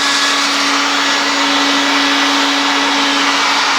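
A heat gun blows hot air steadily over a plastic gutter downspout, giving a loud, constant whirring hiss with a steady motor hum and no talk.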